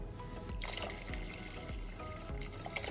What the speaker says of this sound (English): Add 2 cups of coconut water into this big pot.